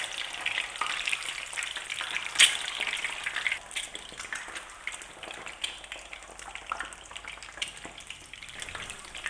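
Eggs shallow frying in a pan, a dense, even crackle of spattering oil throughout, close up, with an occasional sharper pop and stir.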